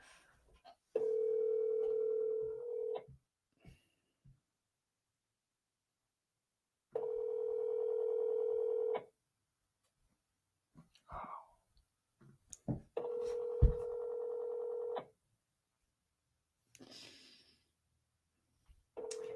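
Telephone ringback tone on an outgoing cold call, three long steady electronic rings separated by silences, with faint clicks and handling noise between them.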